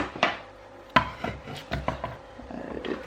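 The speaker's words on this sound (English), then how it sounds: "Just cut it up, you know, to a smaller chunks." Knife chopping food into smaller chunks for homemade baby puree, a few sharp separate knocks against a board with quieter cutting sounds in between, close by.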